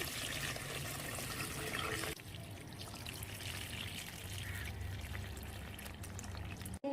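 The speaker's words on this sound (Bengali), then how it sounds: "এই যে গাছে জল দিচ্ছি" Water pours steadily onto potted plants on a rooftop garden, a close, continuous splashing stream that shifts to a softer trickle partway through and stops abruptly at the end.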